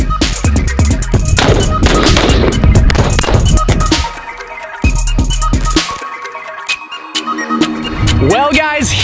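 Weapons fire at a military-edition Rezvani Tank armored SUV in Corona, California: loud, dense bursts of sharp cracks and rattling shots, then scattered single reports with quieter gaps between them.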